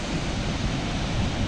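Steady broadband rush of Scorpion Waterfall in Vietnam, continuous water roar with no breaks, fairly close and full, no voices.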